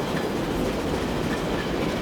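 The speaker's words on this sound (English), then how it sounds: "There's a freight train." A freight train passes in the railway game Transport Fever 2. Its loud, steady rumble and rattling wheel noise fill the whole moment without a break, and no one speaks.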